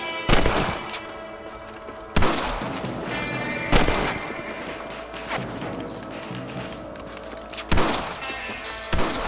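Rifle shots fired at rabbits in the video game Red Dead Redemption: about five loud, sharp cracks spaced irregularly over steady outdoor game ambience.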